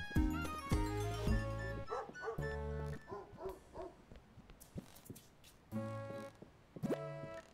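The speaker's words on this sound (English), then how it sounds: "two dogs playing with a disc" Cartoonish dog barks and yips from the video game Pupperazzi, with a pair of dogs playing with a disc, repeated in bouncy clusters over light game music and effects.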